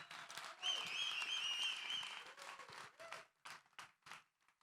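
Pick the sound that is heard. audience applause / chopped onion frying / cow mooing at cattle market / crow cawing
audience applause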